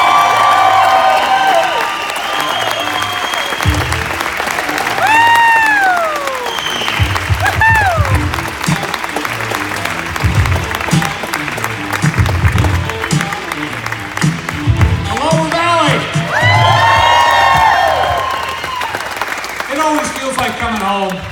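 A big rally crowd welcoming congressman Greg Gianforte on a victory tour in Montana, with sustained loud applause, whoops and cheering, plus whistles and shouted voices rising and falling throughout.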